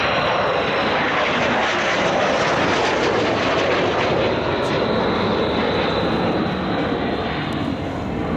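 A Cessna A-37B Dragonfly jet, a light attack aircraft developed from the T-37 trainer, roars loudly and steadily overhead during an airshow at Temora, its engine noise filling the whole stretch without a break.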